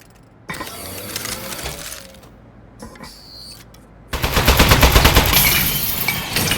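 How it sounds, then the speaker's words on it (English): A turret in the Aperture Desk Job video game fires and breaks, with clanking mechanical ratcheting early on, then a loud sustained burst of rapid gunfire. "Oh, man, the turret broke."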